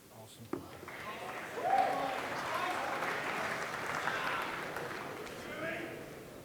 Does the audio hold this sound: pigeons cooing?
no